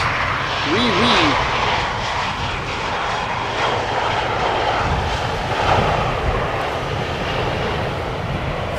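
Air France airliner arriving at Amsterdam Schiphol Airport, a steady broadband engine roar held at an even level throughout, with people talking faintly over it.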